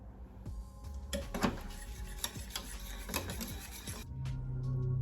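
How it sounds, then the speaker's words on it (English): A whisk scrapes and swishes as cheddar cheese is slowly worked into a cheese sauce in a pot. The strokes are soft and irregular, with faint metallic clinks and a quiet background hum. "You just slowly start to whisk that in."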